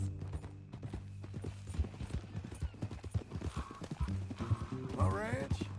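Horse hooves clip-clop at a steady walking pace in Red Dead Redemption 2, a rhythmic clopping running under conversation between riders, with a brief whinny near the end.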